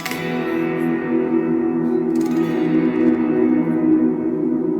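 Sustained guitar chord through a Line 6 POD Go with heavy reverb, sounding large and distant, ringing on with a long smeared tail.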